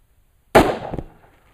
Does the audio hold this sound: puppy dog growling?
no